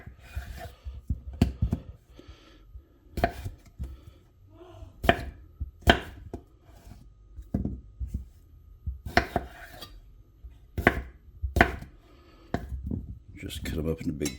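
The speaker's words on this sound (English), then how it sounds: "Just cut them up into big chunky pieces." A big knife chops potatoes into chunky pieces for beef stew, with repeated sharp, close knocks on a cutting board in irregular bursts, and a little background noise between strikes.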